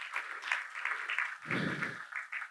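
A church congregation claps together in a steady patter that swells louder for a moment midway, with no talk over it.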